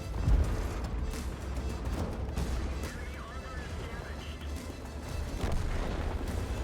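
Tank cannon fire and shell impacts on a turret in a tank combat game: a heavy boom near the start, then continuous rumbling battle noise with scattered further thuds and mechanical whine.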